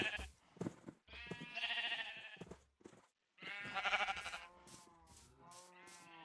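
Sheep in a survival video game bleat repeatedly from close by, several wavering calls overlapping in irregular bursts with brief gaps between them.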